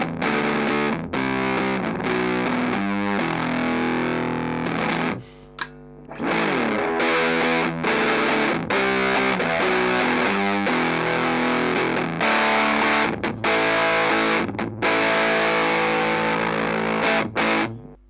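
Electric guitar on the hotter of two amp channels roars with heavy, saturated distortion through a long run of loud sustained chords and riffs, with a few brief breaks between phrases.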